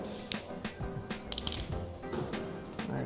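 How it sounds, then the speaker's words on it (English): Plastic caps are pried off a bicycle crank with a small knife, producing several sharp, close clicks and snaps amid light mechanical rattling. "I'm just gonna pop those off with a little knife action."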